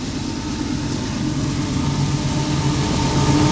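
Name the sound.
CEFX 1045 locomotive leading a southbound CP intermodal train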